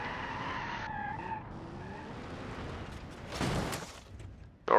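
Tires of a Soliad Spica squealing and skidding as the car drifts in BeamNG.Drive, with a tonal screech fading, engine hum, and a loud burst of skid noise in the middle before a sharp hit at the end.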